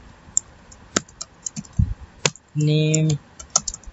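Computer keyboard typing while entering a name into Microsoft Excel, with scattered key clicks across the clip and a short burst of speech in the middle.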